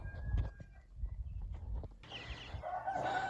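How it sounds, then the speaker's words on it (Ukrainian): Farmyard hens and chicks clucking and a rooster-like crow rise over low outdoor rumble, with birds calling nearby in the second half. "Це наші квочечки ходять вже такі курчатка у нас."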